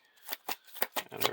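Cards from a Lord of the Rings card game are shuffled back into a deck, giving a quick run of crisp riffling bursts, close and fairly quiet, with no voices.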